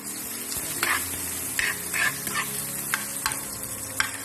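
Garlic sizzles in a hot pan for Filipino pork blood stew, with a steady crackling hiss broken by several distinct scraping stirs of a utensil against the pan, close and fairly quiet, no talking.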